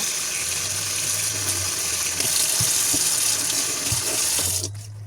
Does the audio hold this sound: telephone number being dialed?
no